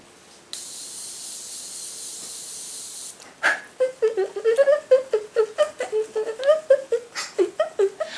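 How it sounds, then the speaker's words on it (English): A continuous hiss of setting spray misting onto a face for a few seconds, then someone laughs and giggles in short, rhythmic bursts. "I'm just gonna go ahead and go in and douse my face in the spray"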